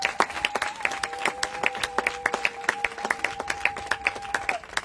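A church congregation at a religious wedding ceremony claps steadily in a brisk, even rhythm, a dense round of applause over a held organ or keyboard note, with no talking.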